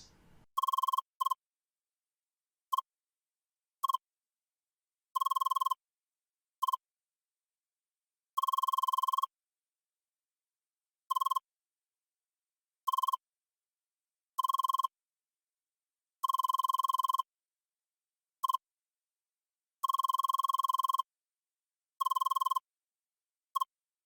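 A phone rings repeatedly in the action RPG CrossCode, sharp electronic trills in irregular bursts of varying length separated by silent gaps, clear and alone with no voices.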